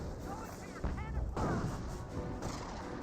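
Sniper rifle fire in the video game Company of Heroes, heard as a couple of sharp, booming shots amid battle noise and a commentator talking throughout.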